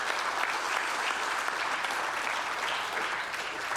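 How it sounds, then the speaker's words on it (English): Audience applause for the judges at an innovation awards ceremony: dense, steady clapping from a large crowd that stays loud and even from start to finish, with no voices over it. "So what about a round of applause for your judges and that excellent sponsor package?"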